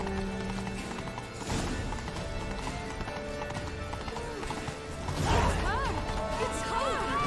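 Roach, the horse in The Witcher 3, gallops with steady rhythmic clip-clop hoofbeats that run throughout, louder near the end, alongside a whinny, chaotic game sounds and voices.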